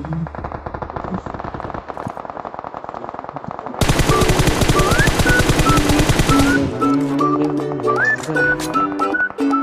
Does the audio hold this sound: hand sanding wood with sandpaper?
no